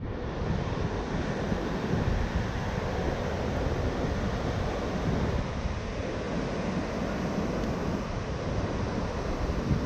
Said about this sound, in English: Oh, just check the waves, so good, like A-frames everywhere.